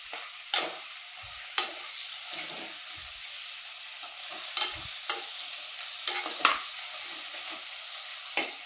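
Beans fry in a pan with a steady hiss while a spoon scrapes and stirs, giving sharp strokes every second or so against the continuous sizzle.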